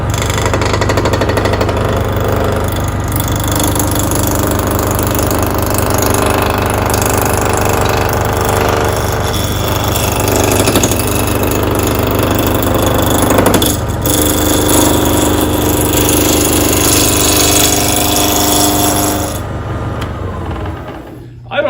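Wood lathe roughing out a camphor wood vase blank at 1500 RPM, a loud continuous rattling, chattering cut over a steady motor hum, close and unbroken until it fades at the end, with no talk.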